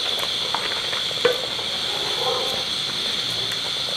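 Carrot, semolina and full cream milk being stirred in a pot, with a steady close hiss, faint sizzling and scattered soft scrapes and taps of a utensil against the metal.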